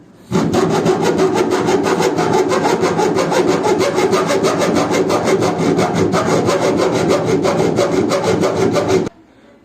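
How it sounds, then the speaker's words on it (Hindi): Rapid back-and-forth strokes of a saw blade deepening a screwdriver slot in a part during a washing machine repair, loud, close and evenly rhythmic, starting abruptly and stopping after about nine seconds, with no talking. "हमें जब तक काटना है जब तक उस पर पेचकस सही से बैठ ना जाए"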